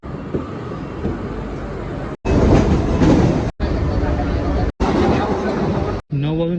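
Rumble and rattle of a Mumbai suburban local train running nearby at Borivali, broken into segments by abrupt cuts, with a voice speaking briefly at the end.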